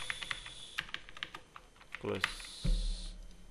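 Rapid clicks and taps of keyboard shortcuts pressed on a computer keyboard while working in Microsoft Word, with a louder thump or two toward the end, close and clear without talk.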